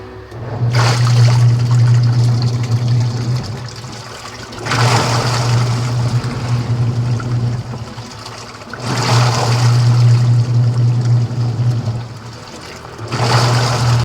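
A Panasonic jumbo washing machine with a replaced bushing runs its final test with water, cycling through three long stretches of steady motor hum and sloshing water, separated by brief quiet pauses.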